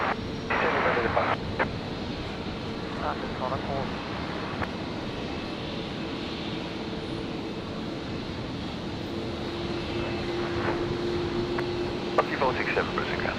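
A Royal Flying Doctor Service Beech King Air 200 departs Brisbane airport, its engine noise a steady, distant roar under wind and occasional background talk.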